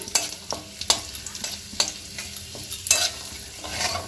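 Dry red chillies and a bay leaf fry in hot oil, a sizzling crackle broken by repeated sharp scraping strokes of a stirring spoon at an uneven rhythm, with no talking.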